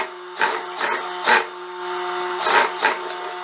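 A home sewing machine stitching a jumpsuit's facing right side to right side, running in several short motor bursts of under a second each with brief pauses between, loud and close.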